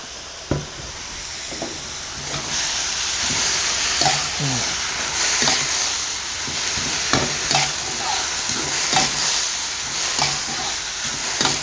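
Banana blossom stir-fried in a hot pan, a close, steady sizzle with regular scraping strokes of the spatula every second or so, with no talk.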